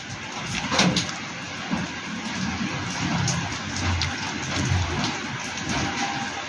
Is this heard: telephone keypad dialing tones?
no